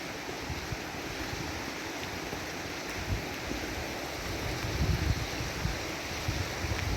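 Floodwaters of Sylamore Creek rush along a trail, a steady broadband roar that is loud and continuous and close by, swelling slightly in places, with no voices.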